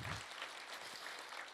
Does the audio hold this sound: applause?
yes